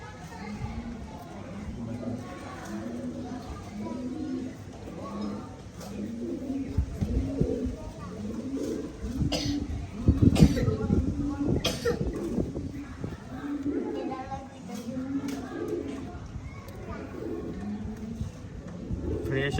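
Pigeons coo steadily in a rhythmic, low, repeated pattern throughout, close by, while a person talks over them at times.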